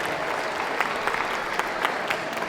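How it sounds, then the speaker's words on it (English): Audience applauding at a city dog show during hound group judging, a brisk sustained ripple of many hands clapping with scattered sharper claps near and far. "Can we have a round of applause, please, for all the other best of breed winners?"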